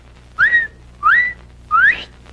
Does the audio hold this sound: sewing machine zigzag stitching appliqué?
no